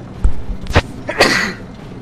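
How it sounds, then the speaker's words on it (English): A single sneeze from a person playing Orcs Must Die 2, a sharp close burst after a couple of short breathy catches, then fading off. "Sorry, I had to sneeze."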